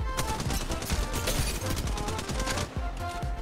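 Dense automatic gunfire in the mobile shooter Apex Legends Mobile, a loud, continuous, rapid burst of shots that pound on without a break for several seconds, close up.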